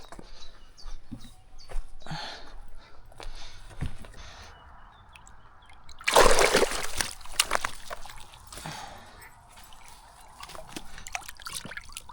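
Live bait fish tossed from a landing net into a river lands with a sudden loud splash midway, amid quieter trickling and sloshing water and faint outdoor background.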